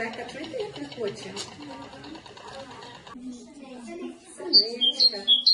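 Great tit song in March, a few short high chirps near the end following stretches of adult talk in a preschool music lesson about spring.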